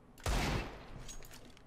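Gunfire in a video game shooter, heard as one loud close burst of shots followed by a fading, rumbling tail, with no talking over it.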